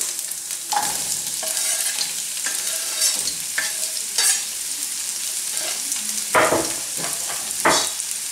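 Onions sweat in hot oil on a Cobb BBQ, giving a steady sizzle with intermittent stirring scrapes and brief louder bursts, heard alone with no talking.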